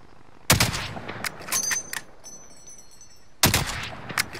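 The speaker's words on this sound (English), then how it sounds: "They're shooting at him." Gunfire in the video game Warzone comes as two sharp bursts of shots about three seconds apart, loud and close, with faint electronic beeps in between.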